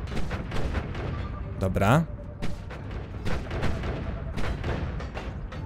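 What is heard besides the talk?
projectile shots in the video game Noita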